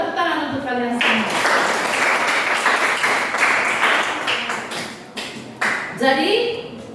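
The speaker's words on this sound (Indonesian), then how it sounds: "tepuk tangan untuk kalian semua" Students clap in a school science classroom: a dense burst of applause lasting several seconds and fading unevenly, with a teacher's voice heard before and after.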